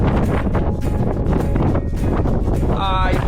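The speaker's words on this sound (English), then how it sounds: "Very windy up here" Strong wind buffets the microphone on a Scottish Munro summit, Meall Chuaich, in loud continuous gusty roaring, with a voice speaking partly under it.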